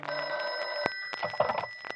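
Telephone bell ringing in an old-time radio drama, a loud, close electric ring with rapid rattling bursts that sound alone, without talk.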